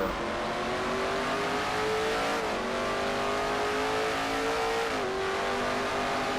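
A race car engine in a NASCAR-style racing video game, roaring loudly and continuously, with its pitch sweeping as it revs and drops through gear changes, alone without talk.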